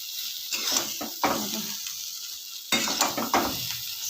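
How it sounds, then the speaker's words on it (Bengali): Spices frying with flat beans and potatoes in a pan, a steady close sizzle broken by several stirring scrapes, with no talking. "ভালো করে মশলাটাকে ভাজা করে নিলাম"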